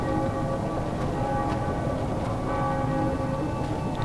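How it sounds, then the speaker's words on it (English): Castle bells toll in The Witcher 2, several heavy strikes ringing out over a dense, continuous wash of in-game ambience, fairly loud and without talk. "they're ringing the bells"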